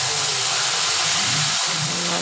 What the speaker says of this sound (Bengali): মাছগুলো আমি ছেড়ে দিচ্ছি